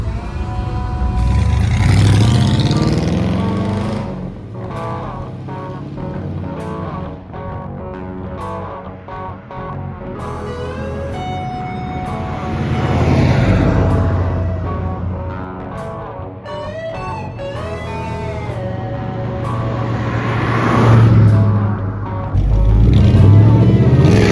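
A tired, smoky 1964 Plymouth Fury with a 318 V8 drives along, its engine note rising and falling through several swells of acceleration, loud and close throughout.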